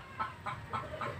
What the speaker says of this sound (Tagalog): At kaya mga alaga ko manok,